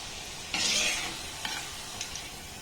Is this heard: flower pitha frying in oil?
yes